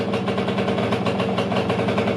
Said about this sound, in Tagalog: Maingay lang yung tambucho kasi may butas yun eh.